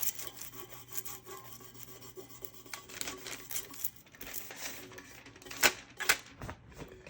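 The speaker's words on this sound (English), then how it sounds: "Just rub the foil on like so." Dry rubbing and scratching as foil is pressed onto a tumbler cup by hand, close and quiet, with irregular light strokes and a few sharper crinkles near the end.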